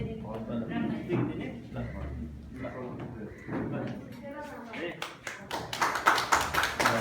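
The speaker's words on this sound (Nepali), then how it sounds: "एकचोटि जोरदारका साथ ताली है" Audience applause at a Nepali gathering, building in the last two seconds into dense, loud clapping after a stretch of speech-like sound and tapping.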